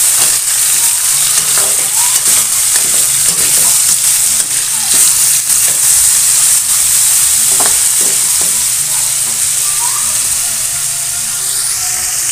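Chicken pieces fry in a pan until lightly browned, a loud and constant close sizzle with occasional stirring scrapes and no voices.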